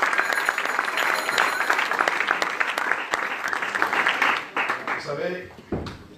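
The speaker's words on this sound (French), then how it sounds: "Acclamons pour la gloire de Dieu." A church congregation claps and cheers in praise, dense and lively at first, then thinning out near the end, with a few voices rising as it fades.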